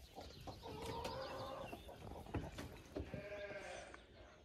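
Hens and ducks clucking and calling together inside a henhouse, a busy overlapping mix of short clucks and bleat-like cries at close range with no talk.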